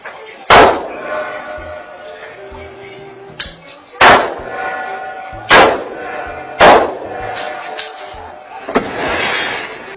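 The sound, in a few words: gunshots at a door lock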